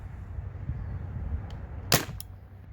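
A Spyder Rodeo paintball marker fires through a chronograph with one sharp, loud crack near the end, a fainter click just before and another just after, over a quiet low background.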